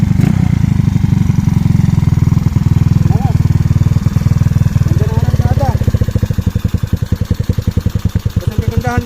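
Yamaha Mio Soul scooter with a 28mm Keihin flatslide carburettor idling close by, first a dense steady drone and then a slower, distinctly pulsing low putter, with brief speech over it.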